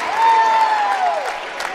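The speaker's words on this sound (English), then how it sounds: "the Fletcher crowd's going to stand up and applaud the officials when they call the foul on Geronimo" Spectators at a boys' high school basketball tournament game, Geronimo versus Fletcher, clap steadily in a gym while a referee's whistle sounds a long tone over the applause.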